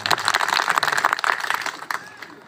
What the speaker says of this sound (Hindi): एक बार इनके सम्मान में जोरदार तालियां बजा दीजिए।